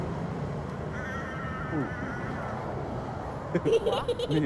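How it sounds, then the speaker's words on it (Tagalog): A crow caws in Lumpini Park, Bangkok, a few drawn-out calls at middle distance over park ambience, with people talking nearby. "Uwak ba yun?"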